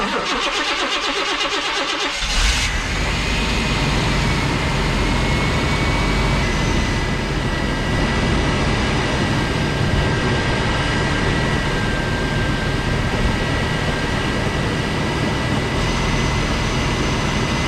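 A 1991 Chevy Silverado OBS pickup engine starts and settles into a loud, steady idle while warming up, with a constant broadband roar and a possible fan clutch whir.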